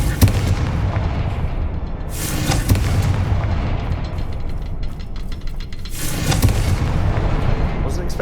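Confringo fire spells explode repeatedly in Hogwarts Legacy, several booming bursts crackling across the scene at uneven intervals with loud low rumble between them.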